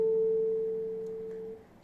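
A single guitar note on the second string rings out clearly and slowly fades over a couple of seconds, with nothing else playing.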